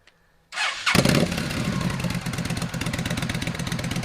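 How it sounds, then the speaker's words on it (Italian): A Yamaha XVS 1300 motorcycle fitted with drag pipes fires up after a brief pause, then settles into a loud, close, lumpy idle with a rapid, uneven exhaust pulse throughout. "Andiamo ad accendere la moto, mettiamoci a 50 cm,"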